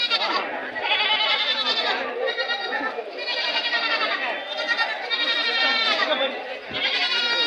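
A young goat bleats again and again at a busy livestock market in Tumakuru, its loud, wavering cries filling nearly the whole stretch against steady crowd noise.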